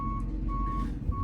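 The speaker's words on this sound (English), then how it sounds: "You also might hear my backup alarm" A truck's backup alarm beeps in a steady, evenly spaced rhythm, three shrill tones over a continuous low engine rumble, close and clear with no talking.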